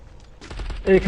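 Bursts of gunfire from a firefight in the battle royale game Free Fire, loud rapid shots clustering toward the end of a brief moment, with a commentator's voice running underneath.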